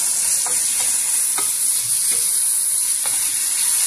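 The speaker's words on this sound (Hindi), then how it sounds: "हल्की आंच पे इन सब वेजिस को आप फ्राई कर लें।" Vegetables for a veggie roll frying on a low flame, giving a steady hiss of sizzling oil with a few soft stirring knocks from a spatula, close and constant, no talking.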